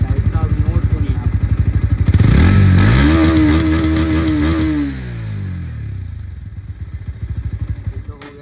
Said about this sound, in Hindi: इसका जो एग्जॉस्ट आता है वो इनबिल्ट नीचे आएगा, इसका फ्रंट में नहीं आता, इसका नोट सुनिए आप